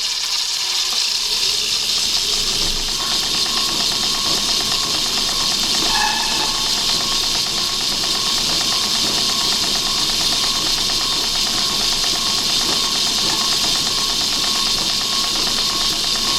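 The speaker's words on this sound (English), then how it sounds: "take a skim off the front where the the knurl has taken a bit of a burr over the edge, just to square the end up again" Metal lathe taking a facing skim off the end of a knurled clock leg to clear a burr: a steady, continuous machining hiss and whir with faint rattling that holds evenly throughout, with no talk.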